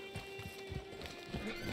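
Horse hooves clip-clop at a steady pace in the Red Dead video game world, a low rhythmic thudding heard over a constant ambient hum with no talk.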